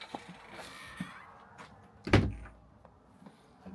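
Door inside a motorhome swings shut with a single clear thump and rattle near the middle, preceded by soft handling noises and light sliding sounds.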